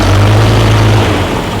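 Bus engine with a clutchless three-speed stick shift and hydraulic pump, revving loud and close as a deep, steady hum that eases slightly near the end.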